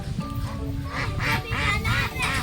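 Ducks quack repeatedly in overlapping, nasal bursts, fairly close and loud, with a busy background of other bird calls.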